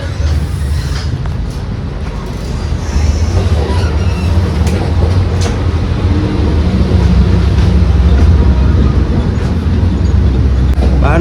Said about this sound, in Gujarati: મેટ્રો ટ્રેન તો કંઈક આવી રીતના છે તમે જોઈ શકો છો